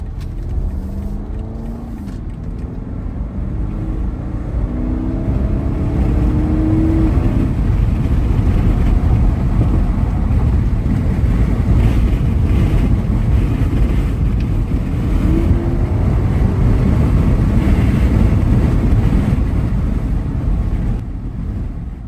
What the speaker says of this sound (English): let's go ahead and do an acceleration clip up the hill